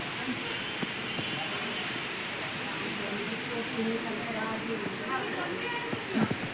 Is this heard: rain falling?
yes